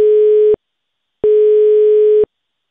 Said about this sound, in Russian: Телефоны не отвечают.